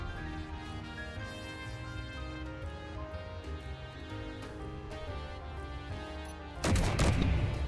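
An enemy firing at the player in a video game: steady, muffled gunfire under a loud game soundtrack, ending in a heavier burst of shots near the close.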